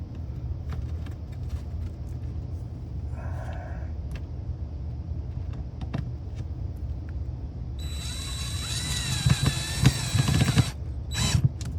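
A power drill drives a screw into wood backing behind a drywall patch, a loud whining burst late on after quieter handling clatter, close by with no talk.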